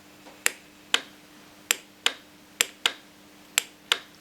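An automotive relay from a Honda Accord clicks sharply as 12 volts DC is applied, giving about nine crisp isolated ticks at irregular intervals against a quiet background hum.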